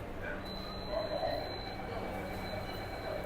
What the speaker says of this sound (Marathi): मेट्रो ॲक्च्युली चालू होते तेव्हा थोडासा पिकअप फील होता आपल्याला ट्रेनचा